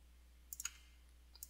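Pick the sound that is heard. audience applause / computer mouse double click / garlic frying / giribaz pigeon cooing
computer mouse double click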